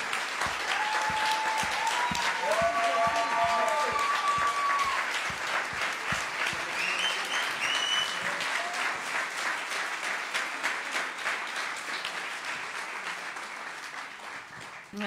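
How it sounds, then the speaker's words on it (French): A church congregation applauds Jesus in a long, even round of clapping from many hands, with a few brief sung or voiced tones rising early on, the applause slowly easing in strength toward the end. "Alors on l'applaudit"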